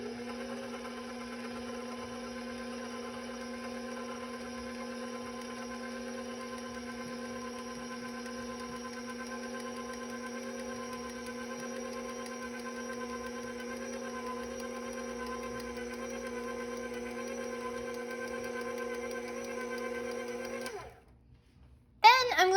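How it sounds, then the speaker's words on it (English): An electric mixer whirs steadily through chocolate muffin batter in a home kitchen, a loud constant motor drone lasting about twenty seconds before cutting off abruptly. "I'm going to mix until it's mostly incorporated."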